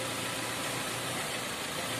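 A 2012 Hyundai Tucson engine runs steadily after a transmission replacement, giving a constant close, even mechanical hum and hiss with no talking over its two seconds.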